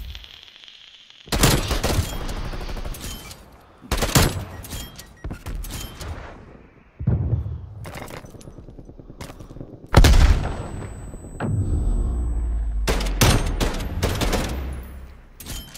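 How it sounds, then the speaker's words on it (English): Bursts of rapid video game gunfire in a multiplayer shooter match, loud close volleys and sustained automatic fire separated by short pauses, with sharp single shots and booming impacts mixed in. "you were just shooting into the smoke"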